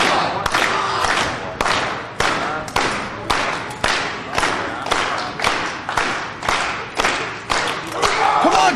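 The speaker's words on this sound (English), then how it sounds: "Fans start a clap trying to get Bailey back up." A wrestling crowd at a deathmatch claps in a steady rhythmic beat, loud, close and sustained, with faint shouts among the claps.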